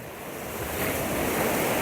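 Sea swell washes below a high rocky fishing spot in Wales, a rising rush of waves building louder over a couple of seconds with some wind buffeting.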